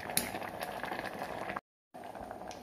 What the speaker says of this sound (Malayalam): ഇതൊന്ന് തിളക്കട്ടെ.